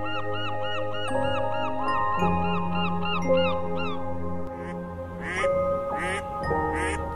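Migratory ducks and geese quack and honk repeatedly in winter at the Baie de Somme, several birds calling over one another at close range.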